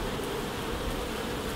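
Honey bees buzz steadily and close by throughout an open hive inspection by a beekeeper, a continuous dense hum with no talking.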